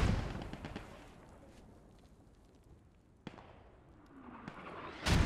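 Mortar fire in the Post Scriptum war game, with heavy low booms at the start, a sharp blast near the middle and another loud impact at the end, set against a dull rumbling battlefield background.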